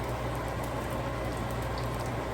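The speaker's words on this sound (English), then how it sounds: "is frying up in that oil" Steady, dense crackling sizzle of fish frying in hot oil, close up and continuous, with no talking.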